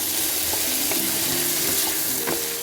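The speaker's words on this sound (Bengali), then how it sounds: "এবার আমি এটাকে ভেজে নেব।" Potatoes, onions and green chillies fry in oil with salt, giving a dense, loud, close sizzle and a few light scrapes of stirring throughout.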